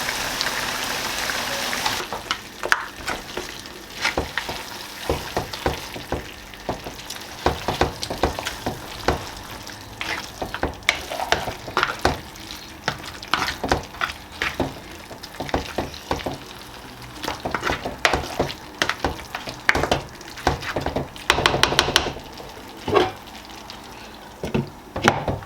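Fresh greens for Nigerian efo riro vegetable soup dropping into a hot pot, starting with a loud hiss, then settling into a long crackling, spattering sizzle with irregular pops.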